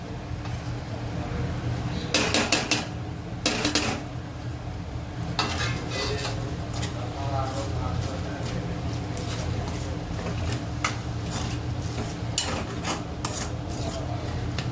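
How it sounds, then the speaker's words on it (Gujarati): Tomatoes go into a pan of lily turmeric curry, with repeated metallic clinks and scraping of a spoon against the pan over a steady low background hum. No one talks. "હવે આપણે આની અંદર ટામેટાં નાખી દઈશું."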